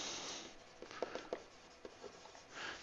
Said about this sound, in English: I'm going to have you write this down on the side of your paper as well